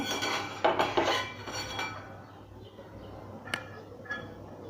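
Crispy manchurian being scooped into a serving dish, with a few clinks and scrapes of a utensil against the dish at first, then quieter handling and a couple of faint taps, close and without speech.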